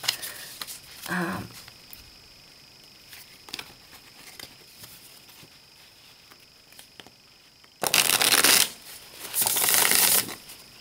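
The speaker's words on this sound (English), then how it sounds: "It riffles very well, so quite lovely set of cards." A thin Jodorowsky Camoin Tarot de Marseille deck being riffle shuffled up close, with two long crisp fluttering riffles near the end after a brief earlier riff and scattered light card handling.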